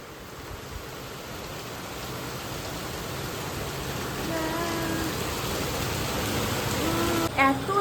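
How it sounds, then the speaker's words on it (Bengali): Heavy rain pours onto a car in a steady, dense hiss that builds slightly over time. A brief tonal sound near the end rises above the rain, and no one speaks. "এত জোরে বৃষ্টি পড়ছে যে আমার জানালার সামনের এই জায়গাটাই পুরো ভিজে গেছে"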